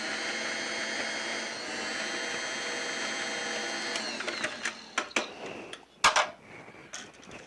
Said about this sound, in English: Next, we're going to put in olives. Just take the olives and drain them.